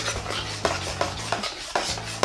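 Homemade slime being stirred after liquid soap is mixed in, giving a run of wet, squelchy strokes with sharper clicks of a utensil against the bowl, steady and close with no talking.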